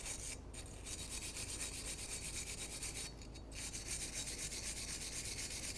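Steady, close rasping scrub of a brush or abrasive against the metal wheel hub and studs of a 2004–2006 Scion xB during a front brake job, continuous with two brief lulls.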